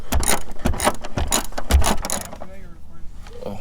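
A ratchet wrench clicks rapidly and loudly up close while a suspension mount bolt is tightened under a Mazda CX-5, the ratcheting bursts stopping near the end as a quieter voice takes over.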